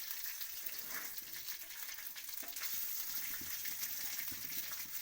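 Rice frying in a pan for homemade mixed fried rice, a steady, even sizzle with soft stirring scrapes running throughout, close and moderately quiet.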